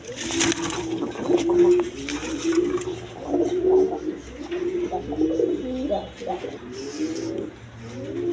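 Rajgolla pigeons coo in repeated throaty phrases close by, steady and fairly loud, with a low hum and occasional noises in the background.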